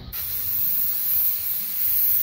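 Pressure pot spray gun spraying water: a steady, close, continuous hiss that starts abruptly and holds evenly throughout.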